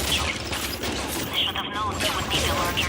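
Turret fire in Bioshock, a dense burst of rapid shots that runs through the whole stretch, loud and close, with game clutter and faint voice sounds mixed in.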